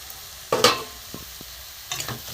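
A prawn and radish curry stirred in a pan: a few scraping strokes and light taps over a soft steady sizzle, close and moderate in level, with no talking.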